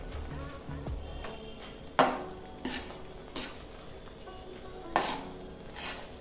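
Utensil stirring milk in a pan while khoya (mawa) is being reduced, with a few distinct scraping clinks against the pan at intervals over a low kitchen background.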